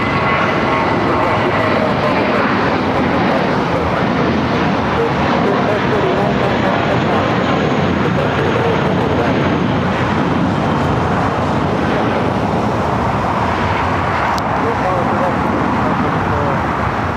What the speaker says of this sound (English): Delta A321 touching down here on the south side.